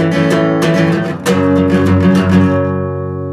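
Guitar playing the verse 2 chord sequence of a song with power chords: a run of quick strummed strokes, a brief pause, then more strums ringing out and fading, close and fairly loud with no voices.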